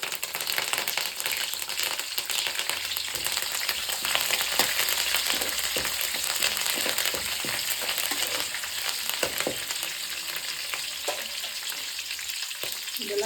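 Green chillies and curry leaves spluttering in hot oil for a tamarind chitranna, a dense, continuous sizzle with rapid crackles and pops, loud and close, with occasional stirring clatter.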